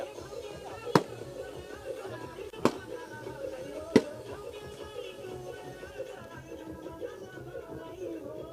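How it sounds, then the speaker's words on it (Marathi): Firecrackers going off to welcome a guest at a local cricket tournament: three sharp, loud bangs spaced a second or two apart, over a steady bed of music and crowd noise. "फटाक्यांच्या आतिषबाजीमध्ये सहर्ष स्वागत"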